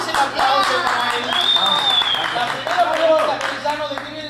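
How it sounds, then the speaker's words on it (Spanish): A studio audience at a Mexican television variety show on Canal 22 applauds a guest called El Jerezano: steady, loud clapping sustained throughout, mixed with whistles and cheering voices from the crowd. "Mi querido amigo, el jerezano, es el aplauso para él."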